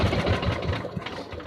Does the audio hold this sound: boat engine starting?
yes